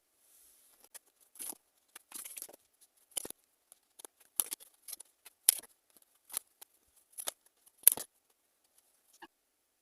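Tarot cards are drawn and handled in a quiet room, a scattered series of soft card slides, flicks and taps spaced irregularly over several seconds, close and faint with no talk.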